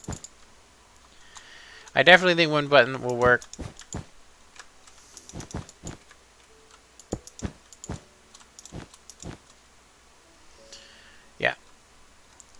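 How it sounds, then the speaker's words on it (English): Keyboard taps and mouse clicks from someone playing Minecraft 1.14.2 while building an up-and-down elevator, a sparse run of sharp, close clicks scattered through the clip, with someone talking briefly early on. "You guys can probably hear me clicking like crazy."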